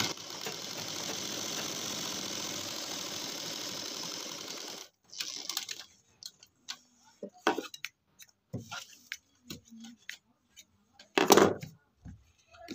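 A sewing machine runs in a steady, close whirr for about five seconds while stitching a kurti neck, then stops, leaving scattered light clicks and handling noises.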